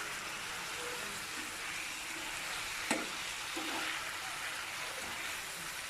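Tomato ketchup being stirred into Chicken Manchurian in a pan, a soft steady sizzle with light scraping and one sharp clink of the utensil, faint and close, no talking.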